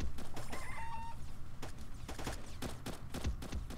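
A rooster clucks and crows in the chicken mode of the shooter game Elite Strike, a brief squawk near the start, then rapid gunshots rattle over a constant game din.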